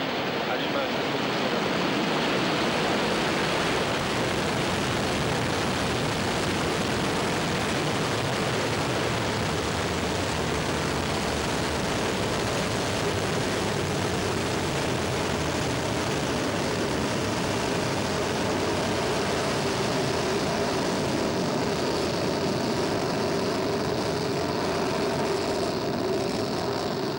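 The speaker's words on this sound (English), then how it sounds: "We have ignition. We have liftoff." An Ariane 4 rocket lifts off with a dense, continuous roar that holds steady and heavy throughout, like unbroken rushing thunder, with a faint voice underneath.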